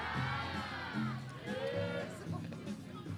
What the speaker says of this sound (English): And the Malawian crowd is so loud.